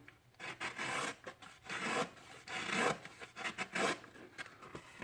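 A Microtech Ultratech Spartan knife blade cuts through material in several rasping, rubbing strokes, close and fairly loud, coming in quick bursts separated by short pauses.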